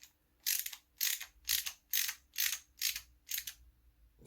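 Ratchet tool clicking while tightening parts on a Losi 5B center differential during a rebuild, eight evenly spaced bursts of ratcheting about half a second apart, close and crisp in a quiet room.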